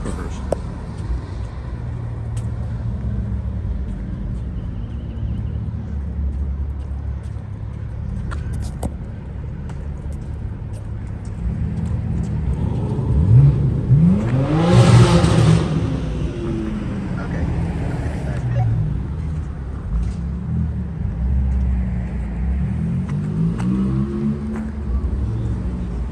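Cars driving past at Zuma Cars and Coffee, a steady low roadway rumble with one vehicle swelling loudly up close mid-way and fading off, people talking throughout.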